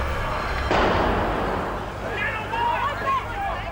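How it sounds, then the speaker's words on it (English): An explosion, thought to be petrol tanks, goes off at an emergency scene in news footage, a sudden broad blast followed by a lingering rumble, with voices and radio chatter heard over it. "the minor explosions now occur. There's been a second explosion"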